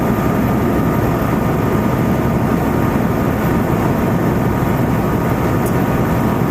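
A heavy haul truck's engine drones loudly and continuously, a deep steady rumble heard from inside the cab with no breaks.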